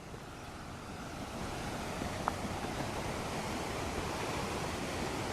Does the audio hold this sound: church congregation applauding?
no